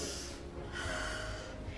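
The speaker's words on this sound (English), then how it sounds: "instead of huffing and puffing, he began to sniff" A storyteller voices a pig sniffing deeply at flowers, drawing long, close nasal inhalations in a couple of breathy pulls with no spoken words.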